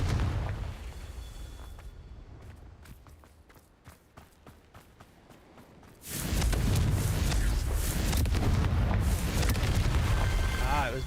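A Confringo fire spell from a Harry Potter video game bursts in a sudden loud whooshing blast after a quieter stretch of rapid ticking, then roars on steadily.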